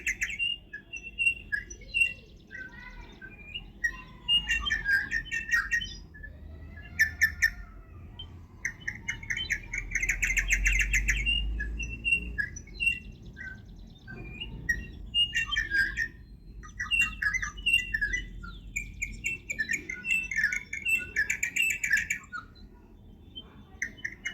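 Bulbul birds calling in a drumstick tree in a rooftop garden, bursts of bright chirps, squawks and warbling phrases coming and going, with a low outdoor rumble underneath.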